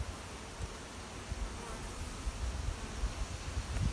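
A dense, continuous low buzz of many honeybees humming close around a hive during a drone brood frame inspection, steady and unbroken.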